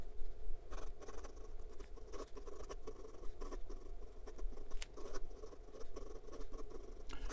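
A 1947 Parker 51 Demi fountain pen writes quickly across paper, giving a soft, continuous scratchy patter with short strokes and taps, close and fairly quiet.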